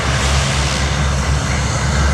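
Four-engine propeller drone of a C-130 Hercules military transport at the 2022 Cleveland National Airshow, a loud, steady roar with a low throbbing hum continuing unbroken throughout.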